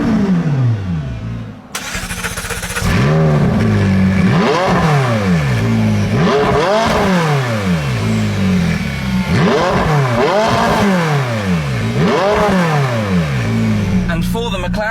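A McLaren sports car engine cranks, catches and idles, then is revved in a series of sharp, loud rising-and-falling bursts, close up, with a voice briefly heard.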